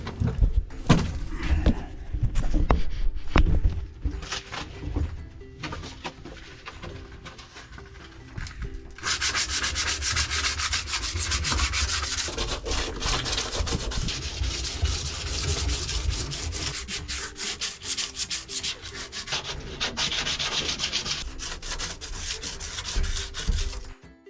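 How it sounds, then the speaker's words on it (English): Sustained abrasive sanding on a 1987 Jeep Wrangler, steady and loud, with a few knocks and scrapes early before settling into continuous grinding. "Let's get to sanding."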